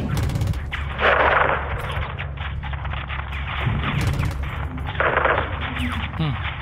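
Gunfire in Call of Duty Modern Warfare II cracks in short bursts amid a dense battle soundscape, with heavier volleys around a few points and a rumbling low background throughout.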